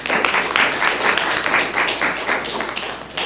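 A room full of people applauding at a county commissioners meeting, a steady wash of clapping that runs for the whole stretch, with faint voices mixed in.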